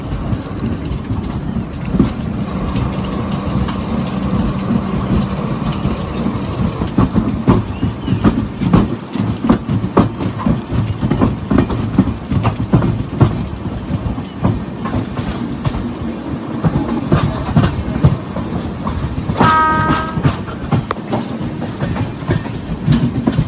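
Express train on the Konkan Railway in monsoon rain, a continuous loud rumble with rhythmic clickety-clack of wheels over rail joints, heard from inside the carriage with steady rain noise beneath.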